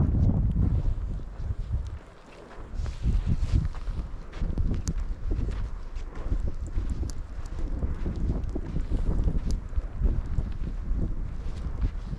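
Strong wind buffets a microphone on Seonjaryeong mountain, gusting in heavy uneven bursts with low rumbling thumps and a brief lull, loud and close while hikers walk.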